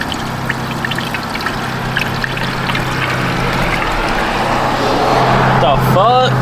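Coolant pours steadily into the radiator of a Honda Accord, a continuous gurgling, trickling wash of liquid under an engine-bay hum that grows slightly louder toward the end, with a voice speaking near the close.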